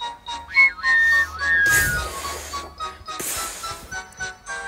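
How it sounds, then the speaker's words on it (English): A steam locomotive whistle sounds in a few drawn-out tones as brakes are applied too late, followed by a loud crash and clattering impacts, with music playing underneath. "Then he heard a whistle."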